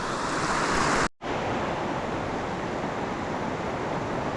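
Waterfall on a tenkara fishing stream pours in a steady, loud broadband rush, briefly cut to silence about a second in before the roar resumes unchanged.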